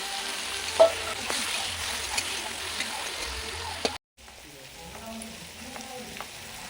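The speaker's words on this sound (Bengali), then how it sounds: "টমেটো ছাড়ছি, রসুন আদা ভাজা হয়ে গেছে, টমেটো ছাড়ছি।" Tomatoes sizzle and fry in a pan with fried garlic and ginger, a soft crackling hiss with occasional stirring clicks and a brief dropout midway.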